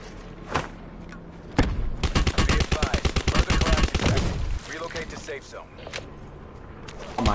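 Rapid gunfire in a video game shootout: a burst of fast, loud automatic shots fills the middle of the clip, with scattered single shots before and after, while players talk over it.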